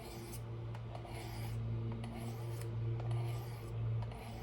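A knife is stroked lightly on the coarse ceramic of a Work Sharp field sharpener, giving a soft, repeated raspy rubbing with regular strokes and brief pauses, close and fairly quiet.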